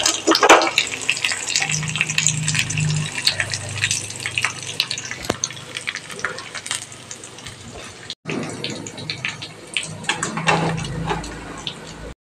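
Hot coconut oil tempering poured into a pot of dal and mango curry gives a steady, close sizzling rush with crackles that runs the whole time, briefly cutting out partway through.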